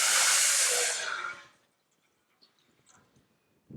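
Water poured from a glass into a heated pan on a stove gives a loud hissing rush for over a second, then cuts off, leaving faint small clinks and bubbling.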